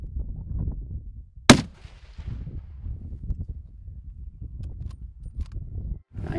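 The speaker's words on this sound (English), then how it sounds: "Lucky for me, he spooks our way and I make my second shot count." A single sharp hunting rifle shot is fired at an axis deer outdoors, loud and abrupt against low rumbling background noise and handling sounds, followed by quieter rustling afterward.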